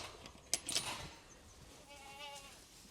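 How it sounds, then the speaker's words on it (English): Young goats in a permaculture goat system bleat in a few short, thin calls, with a louder burst near the start and a wavering bleat toward the end over outdoor farm background. "So we've got some young goats here."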